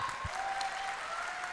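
Audience clapping at a felicitation during a 2018 recognition program, a steady dense patter of many hands that holds evenly for the whole short stretch.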